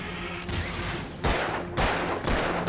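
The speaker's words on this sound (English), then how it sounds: "I wasted a bullet because I shot above his head." Gunshots from the horror action game Alan Wake, several broadband bursts at roughly half-second spacing, the loudest near the middle and end, with a busy in-game background between them.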